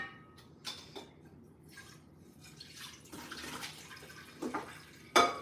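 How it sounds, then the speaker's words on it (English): Tap water running and splashing into a cooking pot, about two quarts added for boiling in a home kitchen, with uneven pours, drips and a sharper splash near the end, heard alone and fairly faint. "So it says to add about 2 quarts of water."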